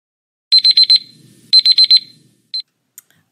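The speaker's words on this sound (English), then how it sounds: "I'm going to put on my timer" A classroom timer alarm goes off in three bursts: two runs of four rapid high electronic beeps, then a single short beep, sharp and clear with quiet gaps between.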